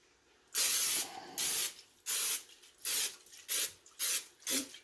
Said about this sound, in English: So Avery, if you want to spray that down a little bit.